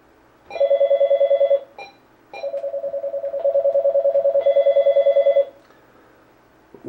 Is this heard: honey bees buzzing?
no